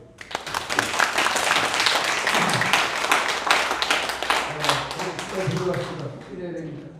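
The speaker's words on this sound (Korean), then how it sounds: "그것만 여기 보니 안 계신데 박수 한번 주세요." Seminar audience at a patriotic citizens' movement freedom seminar breaks into sustained applause, dense clapping filling the room for several seconds as voices talk over it and a low murmur continues toward the end.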